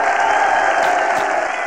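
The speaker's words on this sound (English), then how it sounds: "Cheering to the exciting match" A crowd cheers and applauds at the Asian Games women's volleyball final in Hangzhou, a dense, loud and steady roar of voices and clapping that carries through the whole moment.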